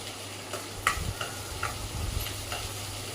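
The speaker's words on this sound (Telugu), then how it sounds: "ఇవి బాగా ఇట్లా వేగాలండి నేను బాగా కలుపుకోవాలి" Black-eyed peas (alasanda) fry in oil in a pan while a spoon stirs them, giving a steady sizzle broken by several distinct scraping strokes and clicks, close and without talk.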